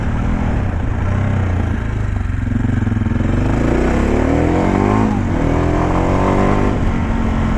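An SWM Superdual 650 T single-cylinder supermoto motorcycle accelerating hard, its engine note climbing steadily through the revs with a brief dip as it shifts, loud and close throughout.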